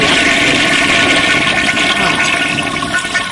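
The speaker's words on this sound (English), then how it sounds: "How do I flush this toilet?" A toilet flushes in a Minecraft airplane game, a loud continuous rushing whoosh of water that stays strong for a few seconds before easing slightly at the end.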